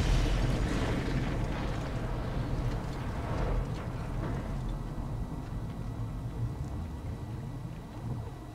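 A long, roaring explosion rumble in the video game Mad Max as a place is blown up, with a steady deep boom and debris noise that slowly fades, and no voices.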